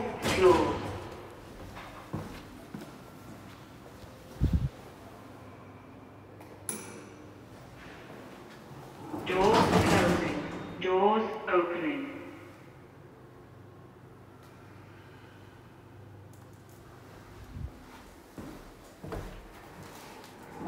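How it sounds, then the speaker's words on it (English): Doors of a 1993 VAC controlled express lift in Weston-super-Mare opening and closing, with a few dull thuds and one louder rumbling slide of the door panels over a quiet mechanical hum. "Doors opening"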